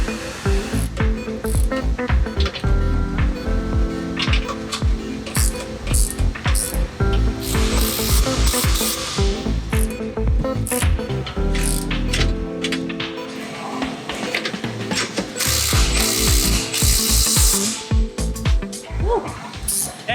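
A ratchet tightening sway bar bolts on a Tesla Model 3, with repeated bursts of clicking and mechanical working noise, close and fairly loud, under occasional speech.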